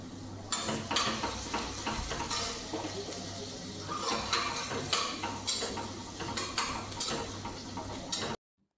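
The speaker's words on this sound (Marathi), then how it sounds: "त्यामध्ये थोडेसे ना खडे मसाले टाकत आहे आणि कांदा टाकून व्यवस्थित परतून घेतलेला आहे" Whole spices and onion sauté in a pan, heard as a continuous close sizzle broken by irregular stirring scrapes and clicks of a utensil against the pan, with no one speaking.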